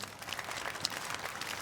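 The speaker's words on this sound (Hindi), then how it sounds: "मेरी इस लकी दोस्त के लिए तालियां तो बनती है ना" Soft, fairly distant clapping from a small group rises briefly after an emotional moment, a light patter of hands that stays faint and quiet throughout.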